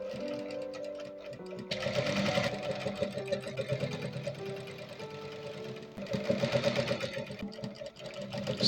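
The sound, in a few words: sewing machine stitching a see-through bustier edge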